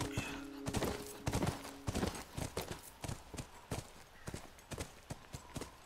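Horse hooves clip-clop in The Last of Us, a steady run of sharp, fairly close hoofbeats with a brief neigh early on and game ambience underneath.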